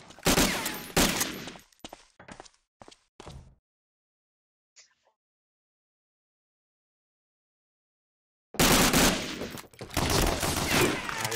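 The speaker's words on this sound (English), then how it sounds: "They are firing." Enemy gunfire in a competitive online shooter match crackles in dense bursts, then cuts to near silence before erupting again into sustained loud volleys of shots.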